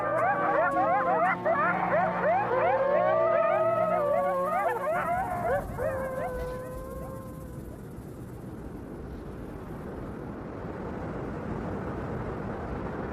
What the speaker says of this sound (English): This group howl means they're all still buddies.